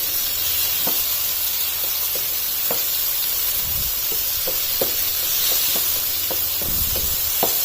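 Chicken jalfrezi with capsicum sautéing in a hot pan, a steady, loud sizzle throughout, broken by soft taps and scrapes of stirring.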